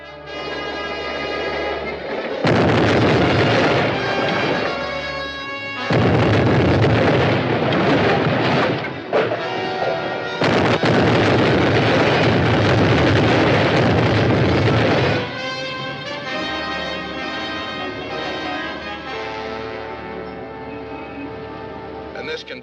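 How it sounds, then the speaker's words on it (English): Loud booming explosions from a vintage Republic Studios Commando Cody rocket-man film serial, several heavy blasts in succession, each swelling and fading, set under dramatic orchestral music. "Another mysterious explosion has just struck one of the government atomic research buildings"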